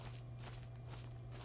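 A rescue pup digs through dirt in the Pikmin 4 video game, making a steady run of soft, rhythmic scraping bursts over a constant low hum, with no talking.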